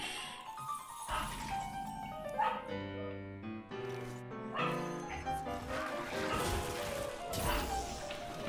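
Dog Shira barking insistently at the back door, repeated loud barks and yips over several seconds, mixed with background music from a computer game playing in the room.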